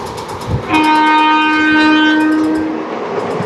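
Kakinada Town–SMVT Bengaluru express train running, a loud horn blast of about two seconds over rhythmic wheel clatter, close and clear, with no voices.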